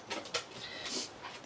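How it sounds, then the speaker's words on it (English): A pet dog whimpers in a home craft room, giving soft, high, repeated whines and short breathy whimpers at close range with no talking over them. "my dog thinks I'm talking to her, so she's in my craft room trying to talk to me"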